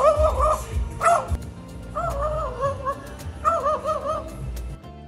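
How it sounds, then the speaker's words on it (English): A seagull gives a series of yelping, dog-like barks in short bursts, with pauses between calls and some background noise. "another seagull that perfectly imitates the barking of a dog"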